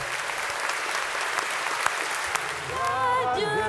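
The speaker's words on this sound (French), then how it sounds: "on peut l'applaudir" A church congregation at Sunday mass applauds steadily for a few seconds, a dense wash of many hands; near the end a voice begins chanting or singing over the fading clapping.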